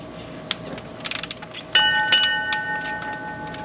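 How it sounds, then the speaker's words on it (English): An electric ratchet loosens the 14 mm oil drain plug on a Jeep JL 2.0, with a quick burst of close mechanical clicking followed by whirring and metallic ringing. "I've got my electric ratchet here. It's going to be a 14 millimeter on here."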